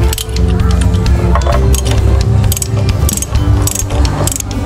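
A ratchet loosening the front brake caliper bolt on a Honda ADV 160 scooter, loud and close, with dense rapid clicking strokes repeating steadily throughout.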